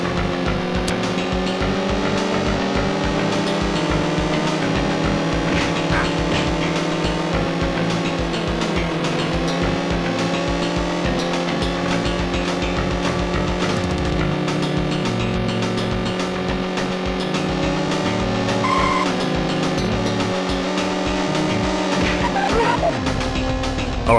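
Road Rash motorcycle racing on the 3DO console, with steady engine drone and revving running throughout alongside game music, loud and continuous with no talk.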